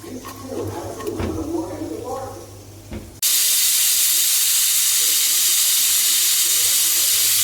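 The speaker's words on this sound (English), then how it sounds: "5 times it should release the pressure" A pressure cooker full of black-eyed beans suddenly vents a loud, sustained hiss of steam after a few seconds of kitchen clatter and a voice speaking.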